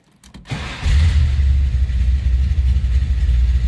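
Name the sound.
1972 Chevrolet Chevelle engine starting and idling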